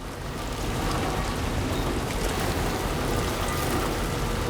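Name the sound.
rain falling in a video game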